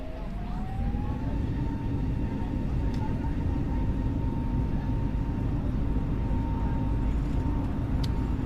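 Airbus A320 jet engines spool up to takeoff thrust in Microsoft Flight Simulator 2020, a loud, constant broadband roar with a rising tone that levels into a steady whine, alone without talk.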